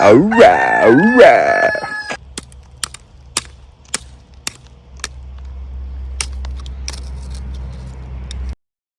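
A rooster crows twice on a homestead, loud and close, its harmonic calls rising and falling over the first two seconds, followed by scattered sharp clicks and taps over a steady low rumble.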